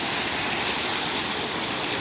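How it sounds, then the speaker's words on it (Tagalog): Strong floodwater rushing in a heavy flood that swept away vehicles, a steady, dense roar of churning water filling the clip without pause. "So sobrang lakas na lang tubig."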